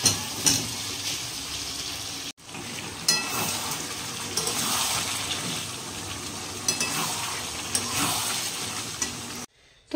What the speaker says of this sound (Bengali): কিছুটা সময় মশলা কষিয়ে নিয়েছি, এবার আমি এই ভাজা চিকেনগুলো দিয়ে দেবো।